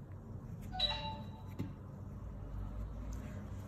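A bell notification chime rings once, a bright, brief ding with a short ringing tail over a quiet background hum.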